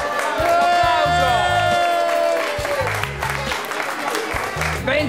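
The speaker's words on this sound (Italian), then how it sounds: "Applauso." An audience at a wine auction claps and cheers loudly. Whistle-like tones and a few shouts ride over the applause, which eases slightly midway and then carries on.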